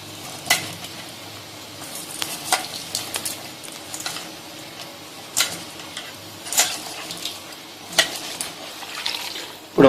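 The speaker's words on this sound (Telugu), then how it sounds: "ఇప్పుడు మనం వాటర్ యాడ్ చేసుకుని నీట్గా క్లీన్ చేసుకుంటాం." Salted snake gourd pieces being washed by hand in water, with irregular splashes and squelchy handling sounds at close range against a quiet background, no speech.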